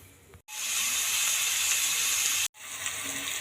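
Chopped onions, green chilli, crushed ginger, garlic and curry leaves frying in sunflower oil and ghee for a prawn roast. A loud, steady hiss of sizzling starts abruptly, runs for about two seconds, cuts out briefly and then carries on more quietly.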